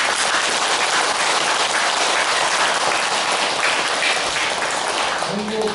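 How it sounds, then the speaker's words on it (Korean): A hall audience at a Buddhist temple dharma talk gives thankful applause for a speaker, a dense, even wash of clapping holding steady for the whole stretch, moderately loud. "우리 그 강남수 교령님께 감사 박수를 한번 드리기 바랍니다."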